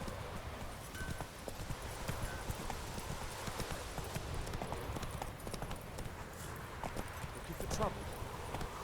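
Hooves of Roach, the horse in The Witcher 3: Wild Hunt, clip-clop in a steady trotting rhythm throughout, close and moderately loud over game ambience, with voices present.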